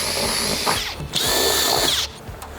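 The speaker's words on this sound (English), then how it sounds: "taking the drill and running it through the pre-drilled hole into the board behind" A power drill drives a screw through a pre-drilled hole into a board while assembling a Cropper Hopper, the motor whining in two loud sustained bursts separated by a brief pause, close and with no talk.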